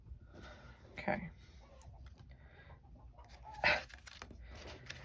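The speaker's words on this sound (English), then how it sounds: "I'm sure you can hear my chickens outside the window" Faint chickens clucking outside a window, a couple of louder squawks standing out over quiet background noise.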